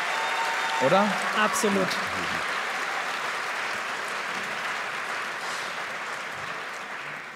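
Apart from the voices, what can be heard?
theater audience applause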